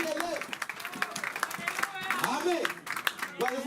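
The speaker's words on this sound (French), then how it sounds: "donnons une acclamation à Jésus" A church congregation claps and cheers in acclamation for Jesus during a sermon, with scattered hand claps under raised, wavering voices and shouts.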